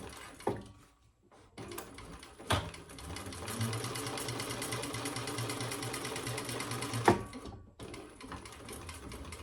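A sewing machine top stitches a wallet, running in a steady, fast mechanical whir for several seconds, loud and close, with brief stops and clicks at the start and end.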